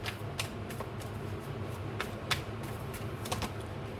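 Tarot cards being shuffled, a quick series of crisp papery riffles and flicks in an uneven rhythm, close and fairly quiet, with no talking.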